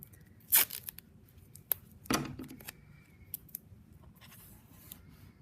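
Tape torn from a roll to fix a mat-board binding template in place: two sharp, close ripping bursts and a few small crisp clicks against a quiet room.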